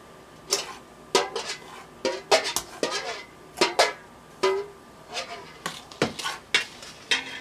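Donut batter being stirred in a bowl for sand donuts, giving repeated scraping and clinking strokes of a utensil against the bowl, close and fairly loud, in an irregular rhythm with no talk.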